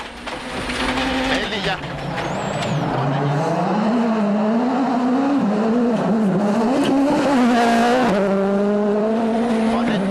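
A rally car on a loose gravel forest stage of the 2011 WRC Rally Australia, its engine loud and close, revving and shifting continuously as it drives through without a break.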